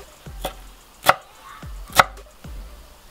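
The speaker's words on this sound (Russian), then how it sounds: "Петрушку буду нарезать, можно ее и нарвать, порвать вернее, но я все-таки ее нарежу." Knife chopping parsley on a cutting board for a beet salad, a few spaced, crisp close-up chops with two sharper, louder strikes, no talking.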